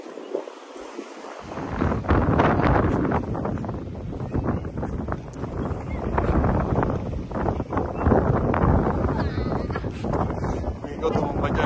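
Strong wind buffeting the microphone outdoors in Canada, loud gusty roaring that starts abruptly and rises and falls in waves, with a voice faintly under it.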